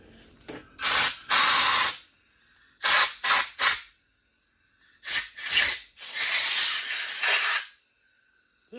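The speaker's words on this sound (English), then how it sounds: "let's hook up our air hose" Compressed air from a shop air hose blasts in repeated loud hissing bursts, some long and some short, with pauses between them, while working on a 1972 Volkswagen Super Beetle engine's cast aluminum parts.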